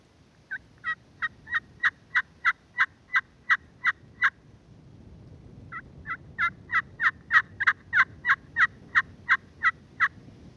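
Basic yelps on a friction pot turkey call worked with a striker held at a slight angle in short C strokes: two runs of about ten evenly spaced, clear yelp notes each, with a short pause between runs, close and alone.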